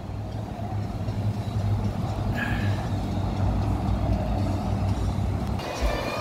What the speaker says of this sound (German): da kommt ja ein geiler Bus rein